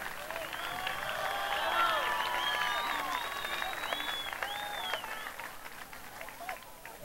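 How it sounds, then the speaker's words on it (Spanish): An audience applauds a contestant at a voice festival semifinal, a steady, moderately loud patter of clapping running the whole time beneath a voice speaking over it. "Un aplauso,"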